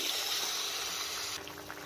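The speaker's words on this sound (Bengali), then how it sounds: "এখন জল দিয়ে দিচ্ছি।" Water poured into a pan of vegetarian new-potato curry, a steady close splashing flow that continues throughout and eases slightly near the end.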